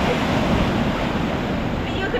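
Waves wash on a beach in Odessa, a continuous broadband surf roar mixed with wind buffeting the microphone, loud and steady throughout.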